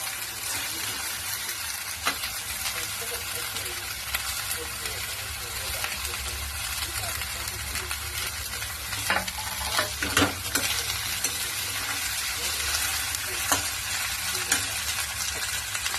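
Spring onions are sautéed in a pan for Maharashtrian bharit with a steady, close sizzle and frequent scraping stirs that continue throughout, and faint voices sound now and then.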